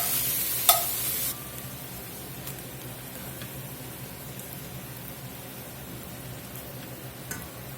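Chopped onions cook down in butter in a pot for a Southern-style beef and mushroom onion soup, giving a soft, steady low sizzle with a sharp clink near the start and a faint tick later.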